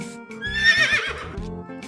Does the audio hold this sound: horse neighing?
yes